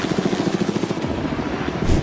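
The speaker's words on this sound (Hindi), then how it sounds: "ये हेलीकॉप्टर हमारे बॉयज को ऊपर हवा में ले जाएगा" Helicopter rotor thudding steadily and loudly nearby at a private island, a continuous rapid chop with a broad roar and no talk over it.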